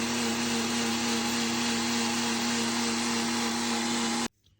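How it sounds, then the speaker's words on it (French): A blender mixes a smoothie with a loud, steady, high whirring roar that holds evenly for about four seconds, then cuts off abruptly into near silence. "On va mixer tout ça et on va goûter."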